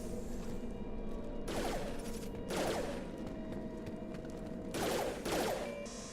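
Gunfire in Mass Effect 2 Legendary Edition: three bursts of rapid automatic shots, each lasting about half a second, fairly close over a steady low background hum of game ambience.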